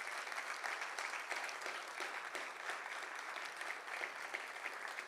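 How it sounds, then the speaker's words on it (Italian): At a Sardinian literature award ceremony, the audience applauds in steady, even clapping heard from a distance and fairly faint, continuing throughout without speech. "Vi chiedo un grande applauso per loro."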